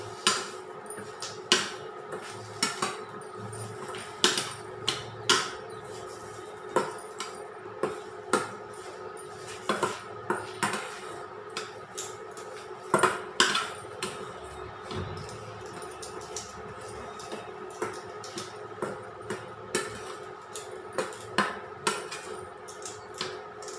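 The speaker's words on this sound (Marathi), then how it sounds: "हे मिश्रण थोडंसं 5 मिनिटं परतून घेते" A potato paratha filling is sautéed in a pan, with a steady low sizzle beneath repeated sharp clacks and knocks of a utensil against the pan, irregular but frequent throughout, close and fairly clear, with no talking.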